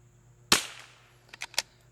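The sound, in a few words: 22LR rifle shot fired off a bag rest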